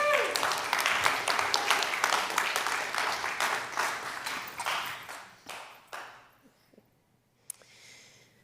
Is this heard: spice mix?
no